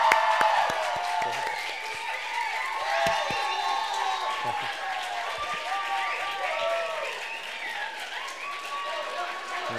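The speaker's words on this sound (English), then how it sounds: "They're cheering because I pronounced your name right." A medical school debate audience claps and cheers, a dense wash of applause with whoops running throughout, while a voice talks over the crowd noise.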